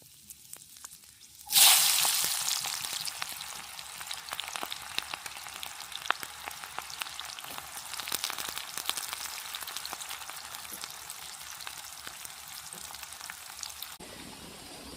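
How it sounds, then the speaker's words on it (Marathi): Onion and green chilli dropped into well-heated oil in a kadhai by a river, erupting into a sudden loud hiss that settles into a steady crackling sizzle with scattered pops, close up and without talk. "तेल पण तापलंय चांगलं. आता कांदा, मिरची टाकून घेते."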